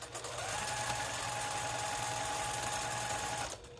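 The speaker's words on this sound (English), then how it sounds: "stitch the middle, double stitch or back stitch, leave myself a turning gap" A sewing machine runs in one continuous burst of about three seconds as it stitches a cork fabric pouch, a steady fast whirring hum that stops abruptly, with no voices.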